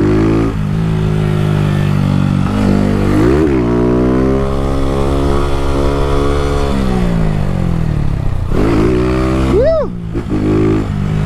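A Start 160 motorcycle with a Dore exhaust revs loudly up close, its engine pitch rising and falling in several sharp throttle blips over a rumbling idle.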